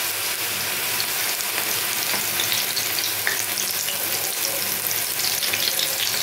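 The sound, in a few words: coriander leaf pakoras dropped into hot oil, frying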